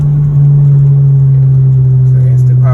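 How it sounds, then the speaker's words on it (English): An Audi car engine gives a short, light rev from a quick tap on the throttle, a loud close rumble with a steady low tone rising briefly near the end. "I'm revving just by tapping the gas because of the throttle."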